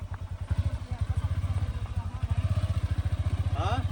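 A motorcycle engine labours on a muddy road, its close, rapid chugging pulses throbbing unevenly as it strains, with a short high squeal near the end.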